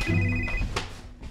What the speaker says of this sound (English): It's a phone.